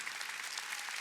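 Congregation clapping together during a Korean Wednesday evening church service, a dense steady wash of applause filling the room without pause.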